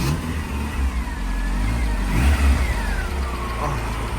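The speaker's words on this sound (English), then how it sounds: "Oh, she's a lovely engine, isn't she?" A classic car engine, a 1040 brought for mid-season checks, runs with a mid-pitched rumble and revs up and back down a couple of times, close and loud with no talk.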